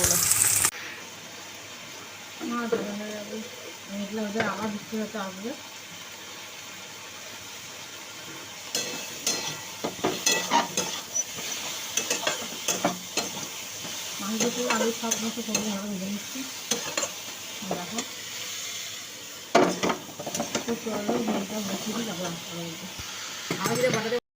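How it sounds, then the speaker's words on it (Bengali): Fish fries in a pan with a crackling sizzle and bursts of stirring and scraping, while someone talks intermittently over the cooking. "মাছটা ভাজছি"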